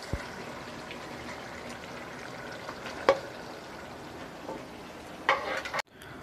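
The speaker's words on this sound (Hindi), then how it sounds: "अब हम इसमें प्याज डालेंगे।" Chopped onions frying in a pan for chicken korma, giving a steady, quiet sizzle throughout with a few brief clinks and stirring knocks.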